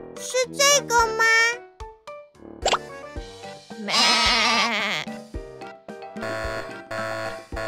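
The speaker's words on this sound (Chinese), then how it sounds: "那是一只毛茸茸的羊叫声。" Cartoon-style sheep bleats in a children's animal sound game, several wavering, tonal baas in close succession, loud and clear, mixed with short plops and musical effects and no talk.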